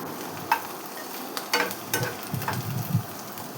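Cluster beans (guar) curry frying in a pan, a soft sizzle with scattered clinks and stirring scrapes, fairly faint and intermittent.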